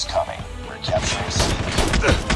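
Pistol gunfire in Call of Duty Mobile, several quick sharp shots in a burst near the middle and end, mixed with game effects and someone talking over them.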